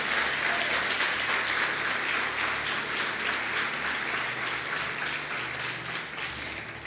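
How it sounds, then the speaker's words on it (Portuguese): A church congregation applauds during a prayer-campaign service, dense, continuous clapping that fills the room steadily and eases only slightly toward the end. "Aplauda ao Senhor bem forte e glorifique o seu nome."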